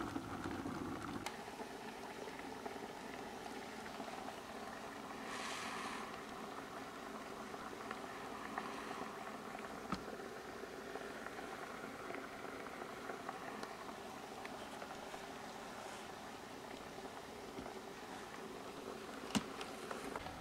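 A garment steamer hisses steadily while disinfecting the inside of a motorcycle helmet, a soft, constant close-up rush with faint bubbling and an occasional small click, and no voices.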